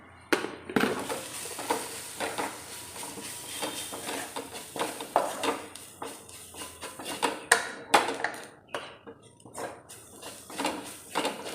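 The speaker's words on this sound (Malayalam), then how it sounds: "നമ്മുടെ പച്ചമണം പോകുന്നോടം വരെ നന്നായിട്ടൊന്ന് ഇളക്കി" Homemade meat masala fries in a pan while being stirred, with steady sizzling and frequent scraping and clinking of a spoon against the pan. The sounds are close and rhythmic and come in irregular bursts, with no talking.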